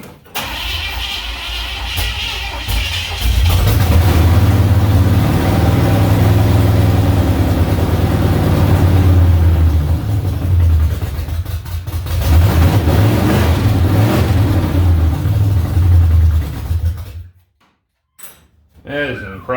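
A car engine runs loudly after an engine swap, a low steady drone that swells and surges as it revs, with strong blow-by, before cutting off near the end; a voice speaks over parts of it.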